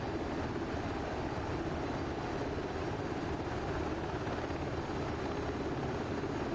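UH-60L Black Hawk helicopter in DCS World on a Syria co-op server comes in to land, giving a steady, dense rotor and engine drone that stays constant and fairly quiet throughout, with no voices.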